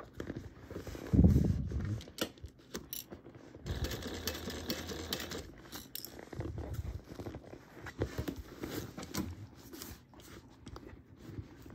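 Sewing machine stitching a bag with a wide seam allowance, quiet rattling stitch bursts that start and stop, plus a few handling thumps, fairly faint and close.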